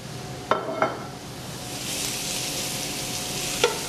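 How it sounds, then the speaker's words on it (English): Shaved venison stir-fries fast in a hot pan with a steady close sizzle, broken by a few sharp clinks of a utensil against the pan. "It's almost like stir frying."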